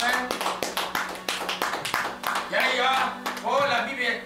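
A church congregation clapping steadily, with sharp claps in an even rhythm for several seconds, joined by voices calling out and singing over the claps toward the end.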